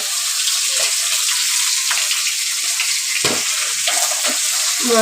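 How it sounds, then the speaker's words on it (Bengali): Food frying in a pan in a home kitchen: a steady, close, bright sizzle that runs throughout, with a few soft stirring scrapes and no talking. "ভাজা হচ্ছে"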